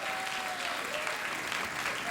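Studio audience applause at a late-night talk show, a dense, steady wash of clapping at moderate distance that fills the whole moment without a break.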